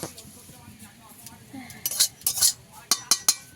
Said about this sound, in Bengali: কড়াতে একটুখানি নিচে রেখে একটু নাড়াচাড়া করে নেব